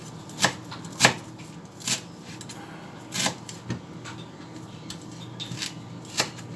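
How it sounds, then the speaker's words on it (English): A knife chops vegetables coarsely on a cutting board in a home kitchen, with sharp, irregular thuds spaced about half a second apart, close and clear, and no one speaking. "So we chop"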